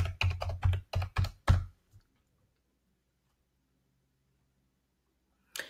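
A password is typed on a computer keyboard in a quick run of about eight crisp, close keystrokes, followed by near silence and one last faint key tap at the end.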